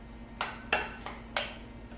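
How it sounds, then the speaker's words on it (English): A big spoon scrapes and clinks against a bowl while mixing keto granola coated in coconut oil, four distinct knocks spaced unevenly over a quiet background. "I'm going to just grab a big spoon here to stir"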